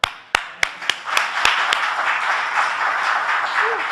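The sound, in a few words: audience clapping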